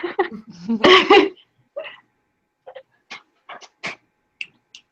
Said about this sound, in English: Sorry, my dogs are freaking out.